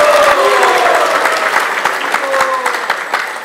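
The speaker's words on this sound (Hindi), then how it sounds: "ऐसी भावना का आप सब तालियों में जाकर स्वागत करो।" Dense applause from a crowd at an evening Hindu devotional sermon in an ISKCON temple, loud and steady throughout, with voices calling and talking over it.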